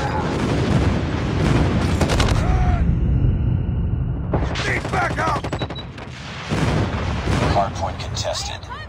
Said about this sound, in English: Enemy airstrike incoming.